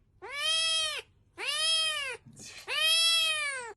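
A cat meows three times, each a long, loud, drawn-out call close by, separated by short pauses, with a faint rustle between the second and third cries.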